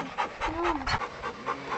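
A dog pants rapidly and steadily at a rocky outdoor spot, a run of quick breathy huffs at close range with no talk over it.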